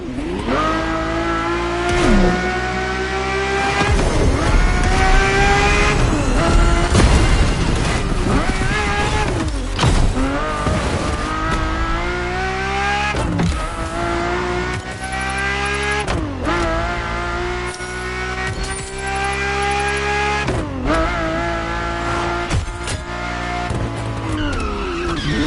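Ferrari F40 and Ferrari F50 supercar engines in the racing game The Crew Motorfest, a steady loud roar with repeated rising revs and gear shifts, playing alone without talk.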